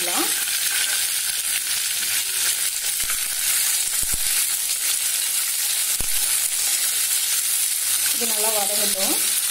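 Onion, cumin, dried red chillies and curry leaves sauté in a pan for snake gourd seed chutney, giving a steady close sizzle with stirring scrapes and a few utensil knocks, no voices.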